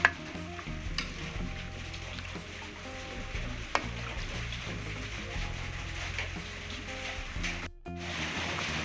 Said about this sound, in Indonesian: Kita aduk kembali.